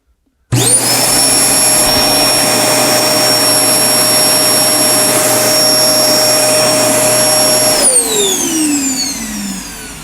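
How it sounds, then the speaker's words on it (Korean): An industrial vacuum cleaner motor starts abruptly and runs at a loud, steady, high-pitched whine, then winds down as it switches off near the end. "이 진공 청소기 한번 그 어, 엔진 소리, 모터 소리를 한번 들어볼게요."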